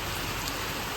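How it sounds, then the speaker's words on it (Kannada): Rain falls outdoors by a roadside near Betne Falls as a soft, steady, even hiss with no voices. "ಅಲ್ಲಿ ತೋರಿಸಿ ಮಳೆ ಏನೈತೆ ನೋಡ್ರಿ"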